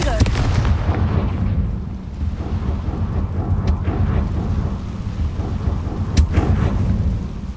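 Confringo blasting spell from Hogwarts Legacy, a booming fiery explosion with heavy low rumble that rolls on continuously, sharp cracks near the start and again late, dense thunder-like roar throughout.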